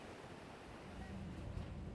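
Rough, high sea surf at a beach in Cancun rumbles and washes steadily, a faint broadband roar mixed with wind noise.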